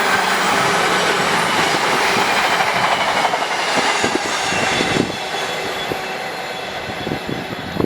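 Class 390 Pendolino trains pass through Tamworth station in a loud, continuous rush of rolling wheels, with rhythmic clicks over the rail joints and a light wheel squeal, the roar easing slightly partway through.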